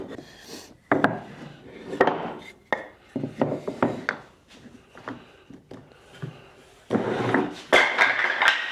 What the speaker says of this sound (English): I started cutting while Mike kept sanding